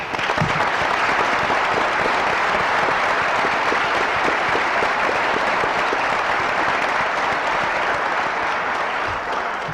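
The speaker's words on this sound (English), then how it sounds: "I think everybody else should applaud you for the job you do" A large audience at a tribal talk on the Lewis and Clark commemoration gives sustained, even applause, loud and unbroken for nearly ten seconds.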